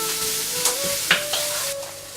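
Onions sizzle and fry in a pan, cooking toward a caramel brown, with a few quick scrapes and stirs clicking through the steady hiss, close up and with no talking.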